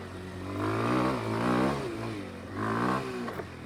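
A 2025 Kawasaki KLX230R dirt bike engine revs on a trail, rising and falling in pitch through several throttle pulls, close to the rider and loud.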